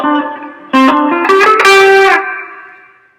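An electric guitar plays the rhythm part of a song through distortion and effects, picking a short run of ringing notes with reverb that swell and then slowly fade out.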